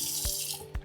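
A kitchen faucet in a basement half-kitchen runs with both handles open full, a steady loud rush of water with a couple of brief bumps.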